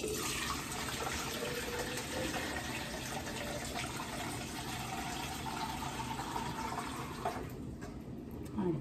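One litre of water pours steadily into a container for homemade cleaning product, a continuous close rushing splash that thins and stops near the end.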